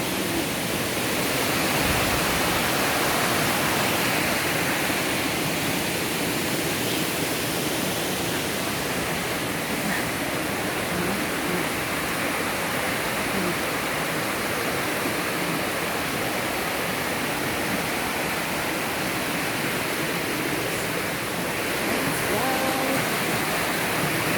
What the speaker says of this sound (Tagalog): There's a falls here.